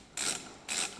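Retaining clips on the circuit board of a Mercedes 722.6 five-speed automatic transmission are loosened, giving two short, quiet mechanical ratcheting scrapes about half a second apart, close by.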